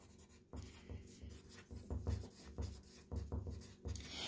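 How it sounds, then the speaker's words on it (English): A pencil writes a name on a letter U worksheet with short, scratchy strokes and brief pauses between letters, close and fairly quiet, with no talking. "write your name at the top"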